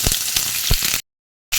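Onion fries in two spoonfuls of hot oil in a pan with a steady, loud crackling sizzle, then cuts off abruptly into silence before the sizzling starts up again.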